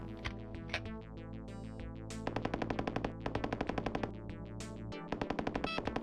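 Rapid bursts of weapon fire from The Terminator Rampage, a PC DOS shooter, with sharp, evenly spaced shots repeating in quick rhythmic runs and loud, echoing cracks between short pauses.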